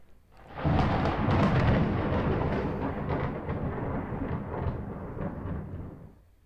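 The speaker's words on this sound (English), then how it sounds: "I haven't heard thunder that loud in real life." Loud thunder in the horror video game The Nun Massacre rolls in and rumbles heavily for several seconds, deep and sustained before fading slightly, with no voices.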